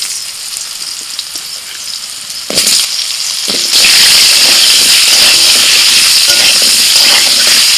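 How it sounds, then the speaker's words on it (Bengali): Potatoes dropped into hot oil in a pan after frying pointed gourd, setting off a sudden loud crackling sizzle that swells and stays strong and steady, close by with no talking. "এবার আলু ভেজে নেব।"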